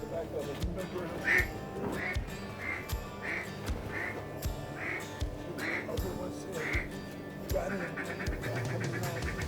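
Mallard ducks quack in a steady series of about eight evenly spaced calls on a sunny day of duck hunting in Arkansas, heard over constant outdoor background noise.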